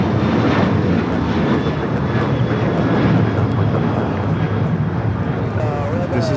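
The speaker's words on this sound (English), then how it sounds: "This is American Airlines Flight 1669 going back to Dallas-Fort Worth" An American Airlines airliner departs Los Angeles LAX for Dallas-Fort Worth, its strong, continuous jet engine roar filling the scene while people talk over it.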